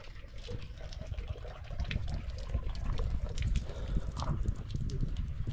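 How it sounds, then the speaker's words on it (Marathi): A small stream trickles through the hills near a Shiva temple outside Gwalior, a close, uneven gurgle and splash running throughout with some rustling handling noise. "हा छोटा झरा आहे इथं."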